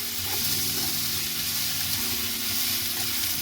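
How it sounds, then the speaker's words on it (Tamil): Crushed ginger and garlic sizzle steadily in hot oil in a pan, a close, continuous frying hiss with faint stirring, no voices. "இந்த இடித்து வச்சிருக்கிற இஞ்சி உள்ளி கலவையை போட்டு வதக்கினோன்னு"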